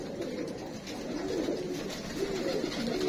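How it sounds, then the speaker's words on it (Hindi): Pigeons coo in soft, low repeated rolling calls against a steady background hum, close and unhurried, with no one talking. "ये एक अली वाला कबूतर बैठा है"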